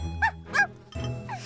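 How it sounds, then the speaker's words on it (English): Small cartoon dog giving a few quick high yips in succession, close and clear, with a bright tinkling tone underneath. "And your doggy's so cute."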